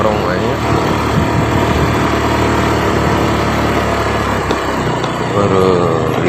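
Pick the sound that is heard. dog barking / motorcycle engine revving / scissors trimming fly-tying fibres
motorcycle engine revving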